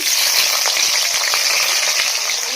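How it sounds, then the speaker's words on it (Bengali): Whole cumin seeds and chopped tomato sizzle hard in hot oil for paneer keema, producing a loud, dense, continuous crackling fry with scattered pops close up. "তেল গরম হয়ে গেছে, তেলে দিয়ে দিলাম গোটা জিরা।"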